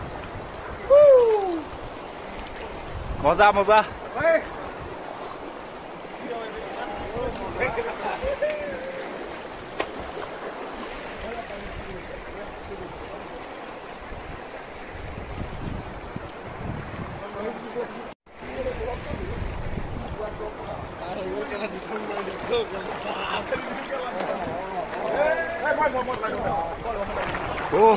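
A clear hill river in Arunachal flowing as a steady broadband rush, with people bathing in it and talking and laughing over the water.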